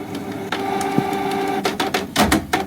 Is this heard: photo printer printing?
yes